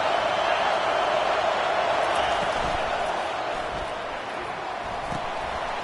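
A home crowd roars at a college football game between LSU and Texas, a broad steady wash of cheering that swells loud and holds throughout, dipping slightly toward the end.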